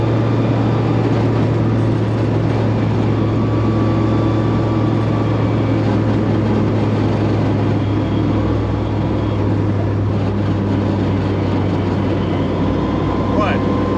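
Ford Escort MK2 fitted with an EcoBoost 2.3 engine sliding sideways, a steady low engine drone holding throughout at close range, with wind-like noise over it.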